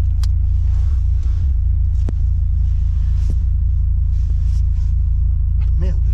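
A Renault Clio RS engine rumbles steadily at idle, a loud, constant low drone filling the whole stretch, with small knocks and clicks from inside the car on top.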